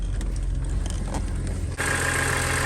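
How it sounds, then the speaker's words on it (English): BMW E46 M3 idling after a Vanos rebuild, a smooth steady engine rumble with a dense low hum and broadband hiss, recorded close with no one speaking. "the car's running nicely and smoothly now"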